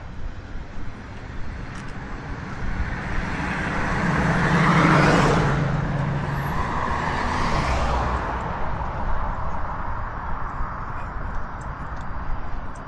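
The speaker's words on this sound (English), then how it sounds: "Oh, there's a lot of traffic" Steady roadway traffic on a city street in Dallas, with one vehicle swelling louder as it passes close by around the middle before the wash of passing cars settles back to a continuous moderate roar.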